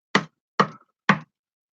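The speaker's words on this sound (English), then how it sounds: "You hear a knock on the door." Three sharp, evenly spaced knocks on a door ring out, each short and hollow and about half a second apart, close and alone with silence between them.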